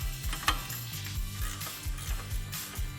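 A ratchet clicks in repeated quick strokes as two top bolts are fully tightened on a SuperATV front bumper for a Polaris RZR Trail S 1000, close and fairly loud with no talking.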